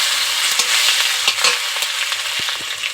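Green chilies and chopped tomato sizzle steadily in a hot pan with whole cumin while cooking dalia. The hiss is loud and continuous, with soft clicks and scrapes from stirring.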